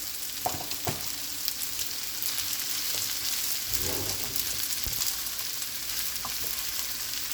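Rice frying with shrimp and chicken for Jamaican-style fried rice gives off a continuous close sizzle, with spoon knocks and scrapes against the pan scattered throughout and no voices.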